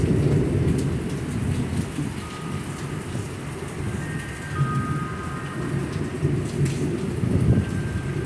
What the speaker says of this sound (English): It's a right good storm.